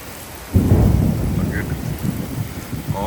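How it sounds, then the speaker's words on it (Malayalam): Thunder rumbles during the Hurricane Helene storm, a heavy roll that breaks in suddenly and then keeps grumbling low and close, with falling rain beneath it and no talking. "ഇടിയൊക്കെ ഉണ്ടെന്നാണ് കേൾക്കുന്നത് ഇടിമിന്നലും കൊള്ളിയാനും ഒക്കെ ഉണ്ടെന്ന്"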